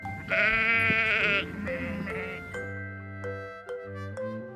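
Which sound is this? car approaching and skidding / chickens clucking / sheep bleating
sheep bleating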